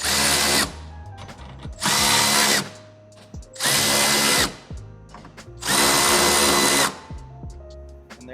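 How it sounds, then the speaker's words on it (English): A power drill drives screws into a mud flap on a GEN3 Toyota Tacoma in four loud, steady whirring runs of about a second each, separated by short pauses, close by with no voices. "we're going to go ahead and tighten all these screws down"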